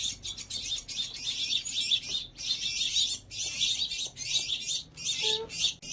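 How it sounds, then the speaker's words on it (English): Young house finches chirp rapidly and continuously in high, bright bursts, close by, with a soft background hiss. "These house finches are learning to fly"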